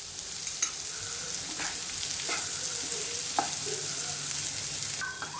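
Vegetables stir-frying with a little salt in a pan for street-style egg noodles; a soft, steady sizzle punctuated by occasional scraping stirs of a spatula, fairly quiet and with no voices.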